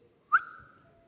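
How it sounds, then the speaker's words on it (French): A single short whistle cuts through a quiet press conference room, a sharp rising chirp that settles into a sustained tone and fades over about half a second. "Vous n'avez pas le droit de siffler dans cette salle."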